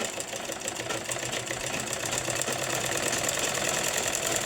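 A sewing machine runs steadily while stitching a blouse, giving a continuous, even mechanical whir with fine rapid ticking that holds at moderate level throughout, with no voices.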